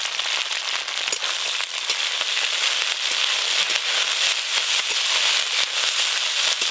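Potatoes and drumstick flowers sizzle and crackle steadily in hot oil in a pan, a dense, continuous frying hiss with scattered pops and no talking.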